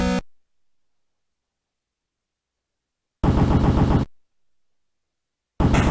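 Short bursts of rapid retro gunfire from The Punisher NES game, two loud stuttering volleys separated by silence, the second cut off at the end.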